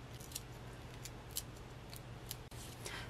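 A thumb rubs along the edge of a planner sticker to lift its paper backing, giving soft, scattered crinkly ticks and scratchy rustles close by over a steady low background hum, with no talking.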